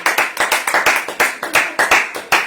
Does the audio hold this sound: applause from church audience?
yes